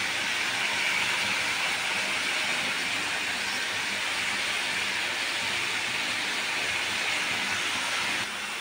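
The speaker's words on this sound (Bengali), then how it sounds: "এখন উচ্ছে ভাজা হচ্ছে" Bitter gourd frying in a pan gives off a loud, continuous close-up hiss and sizzle of hot oil that barely varies in level, with no one speaking.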